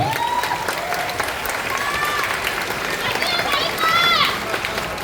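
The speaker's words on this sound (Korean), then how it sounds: "여러분 멋진 경기를 펼쳐준 양성수에게큰 박수 부탁드리겠습니다" An indoor crowd at a KBM fight event at Yongsan Culture and Sports Center claps loudly and steadily for a fighter after his knockout debut. Cheers and whistles rise through it, and an announcer talks over the applause.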